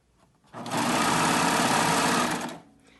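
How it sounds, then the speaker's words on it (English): A serger sewing machine gathers excess fabric using its differential feed, running as one steady, loud, fast mechanical whir for about two seconds. It starts and stops cleanly, with no talking. "the serger's doing all the work here. It's taking this excess fabric and gathering it right in."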